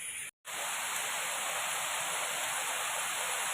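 Steady, even rushing of water from a waterfall on a rainy day, a constant loud hiss with a brief dropout near the start and no voices.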